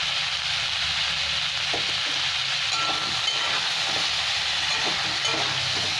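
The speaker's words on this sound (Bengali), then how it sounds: "এখানে আমার আলু ফুলকপি খুব ভালো ভাজা হয়ে গেছে" Potato and cauliflower pieces with turmeric fry in a pan, giving a constant loud sizzle with a few faint stirring knocks, no voices.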